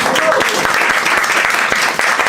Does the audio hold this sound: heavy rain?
no